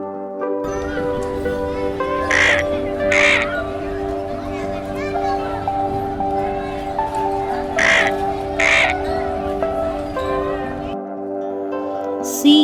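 A vulture call, harsh raspy croaking cries heard in two paired bursts, loud and near, over a sustained musical background.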